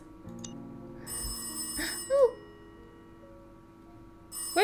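A telephone rings in the puzzle video game Cube Escape: Birthday, bright bursts of ringing with a few soft musical tones between them, heard alone against a quiet background.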